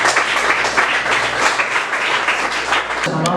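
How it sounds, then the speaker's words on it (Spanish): A church congregation applauds during a Spanish-language service, a loud, dense wash of clapping over a low hum that drops off abruptly near the end. "Aplauda al Señor"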